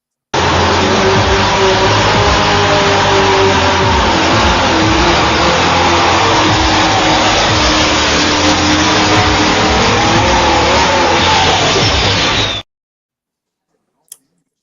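A pulling tractor's engine roars loud and close through a run at the National Farm Machinery Show, a steady throbbing drone for about twelve seconds that cuts off abruptly, then a single faint click.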